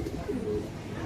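Army pigeons cooing softly at close range, a brief low throaty coo over a steady background hum.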